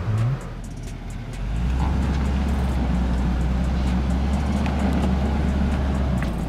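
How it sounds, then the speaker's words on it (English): A Toyota Land Cruiser 300 SUV in low range with the center differential locked and rock mode engaged drives off-road. Its engine rises into a steady, close drone that holds without letup. "The Toyota immediately started driving forward with almost no wheel spin"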